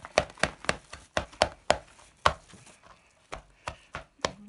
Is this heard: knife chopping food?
yes